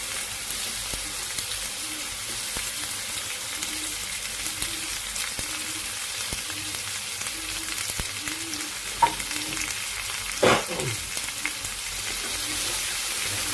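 White onion and beef stir-frying in a pan, a continuous bright hiss of frying with light stirring, a couple of sharper clatters of the spatula near the end, no talk.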